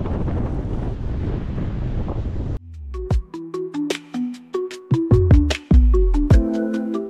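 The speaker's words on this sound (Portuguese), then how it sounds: "Olha como tá o vento aqui, levantando a areia para cima" Strong wind buffets the microphone on a beach at Castelhanos, Anchieta, a loud continuous roar for a few seconds before it cuts off and clear tonal music with sharp plucked notes takes over.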